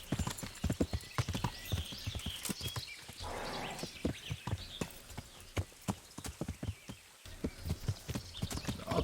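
Horse hooves clip-clop in the Kingdom Come: Deliverance video game, a brisk, fairly regular run of sharp hoof strikes with brief pauses, set against quiet ambient background.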